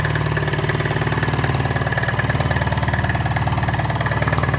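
Small Ligier Microcar M Go X with a DCI diesel engine idling at a dealership, a close, steady, rhythmic low chugging with a fine vibrating pulse and no talk.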